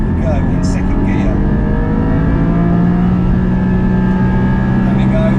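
A Porsche Boxster Spyder engine revs hard in second gear, climbing toward the limiter with a loud, close, continuous droning tone that rises steadily through the whole stretch.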